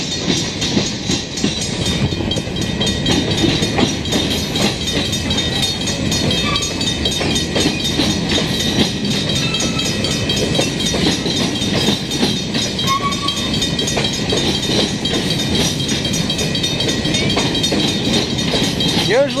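A long mixed-freight CN train rolls past steadily in Montreal, its cars clattering and rumbling in a continuous, rhythmic clickety-clack at moderate distance.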